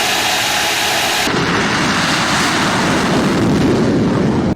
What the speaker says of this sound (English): put the fan on the graphics card to you know, jet engine levels of sound.